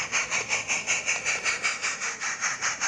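Light railway locomotive No. 6 arriving at Buckley Station, a steady rhythmic chuff or clatter repeating about four times a second, fairly loud and close with a hissy edge.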